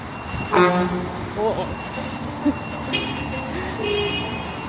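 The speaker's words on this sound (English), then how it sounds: "I guess we're all just honking at each other now." Car horns honk in Taiwan street traffic, several short toots from different vehicles scattered over steady engine and road noise, with a voice speaking briefly in between.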